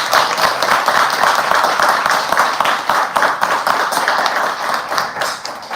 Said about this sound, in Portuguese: Você pode aplaudir também?